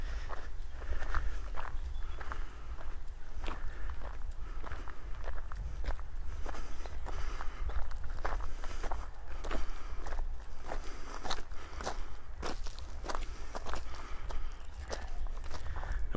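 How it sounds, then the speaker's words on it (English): Footsteps walking normally uphill outdoors on a steep slope, a steady series of close crunching steps at an even walking pace with no voices. "just walking forward without doing the ninja walk, just walking as I would normally"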